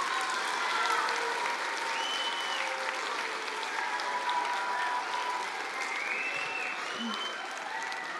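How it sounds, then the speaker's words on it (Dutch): An audience at a children's university lecture claps in sustained, even applause that holds throughout, fairly soft and distant, with faint voices mixed in. "Mag ik voor de laatste keer een heel groot applaus voor Yvonne,"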